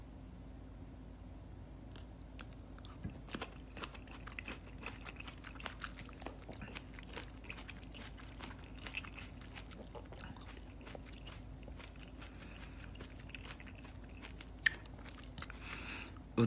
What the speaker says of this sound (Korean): 샤인머스켓 먹고 있어요.